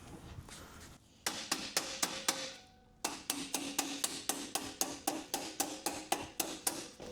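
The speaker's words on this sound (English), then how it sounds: "let's grab another hammer to finish that off" A hammer strikes steel on a workbench during metalwork on a Porsche 356 body, first several spaced blows, then a brief pause and a long steady run of sharp ringing strikes, loud and close with no talking.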